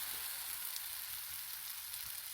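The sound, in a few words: spicy pancake batter sizzling in a frying pan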